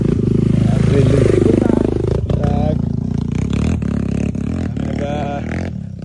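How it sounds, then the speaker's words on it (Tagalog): Trail motorcycles rev loudly as they climb a mountain hiking trail at Sanchez Peak, with engine roar and clatter that fades somewhat as they move off, while people talk over it. "Pakyat yung mga motor sa taas."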